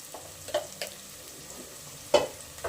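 Spices with turmeric and salt fry in a pan, a soft steady sizzle broken by several brief stirring scrapes and clinks, the loudest near the end.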